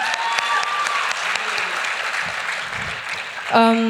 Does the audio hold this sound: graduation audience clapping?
yes